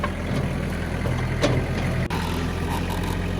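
A tractor engine running while an old feed shed is torn down, a steady low idling rumble close by, continuous and unbroken with no voices.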